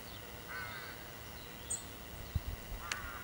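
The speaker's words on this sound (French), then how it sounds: "On a nos amis les corbeaux hein, qui font pas mal de bruit." Crows caw from nearby trees in a few short, separate calls over a steady outdoor background hum, with no one talking.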